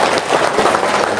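Loud, dense applause from a crowd in a room, a continuous rush of many clapping hands close by and alone, with no talking.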